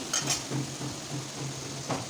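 Ginger and cumin paste fries in a pan after tomato paste, with soft sizzling under a few scraping stirs and light clinks of a utensil against the pan.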